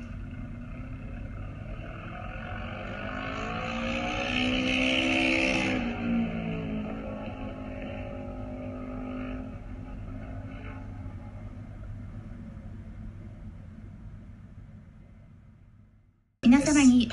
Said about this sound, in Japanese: そしてこの後8番二村飛龍選手試運転です